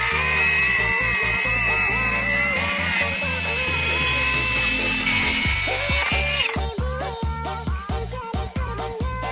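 A compact Dongcheng DCMY125 brushless circular saw runs close and loud with a steady high whine, then bites into the cut, its tone breaking into rough, rapid chatter toward the end.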